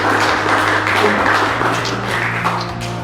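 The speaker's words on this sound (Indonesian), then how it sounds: "Tepuk tangan dong." Audience applause at a community waste-management outreach session in Pesanggrahan, Jakarta, a steady wash of clapping lasting about three seconds over a low hum, fairly loud and continuous.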